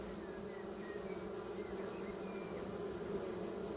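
Honeybees returning to an apiary hive make a steady, close, dense buzzing drone that holds evenly throughout without talk.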